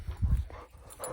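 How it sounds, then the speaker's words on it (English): An 11-month-old Australian Shepherd and Great Pyrenees mix puppy on a farm whimpers in short, soft, low bursts, with a brief whine rising near the end, close by and with no talk. "Trip's a Australian Shepherd Great Pyrenees mix, 11 months old"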